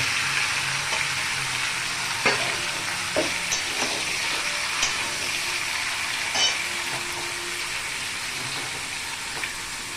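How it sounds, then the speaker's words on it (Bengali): Chicken pieces frying with spice masala in a pan, a steady sizzle punctuated by repeated spatula clacks and scrapes as the meat is stirred. "এদিকে মাংসগুলো আমার খুব ভালো করে ভাজা হয়ে গেছে, আগের মাংসটা ওই মশলাটা আমি দিয়ে দিলাম"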